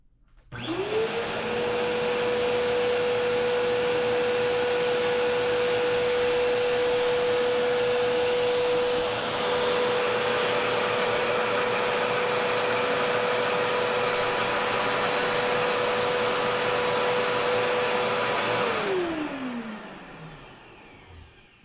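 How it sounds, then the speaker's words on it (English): A Bissell Power Lifter Pet vacuum cleaner switches on, spins up to a loud, steady, close drone that holds for nearly twenty seconds, then winds down as it shuts off. "I'll throw in a video clip of how loud the vacuum is with my meter."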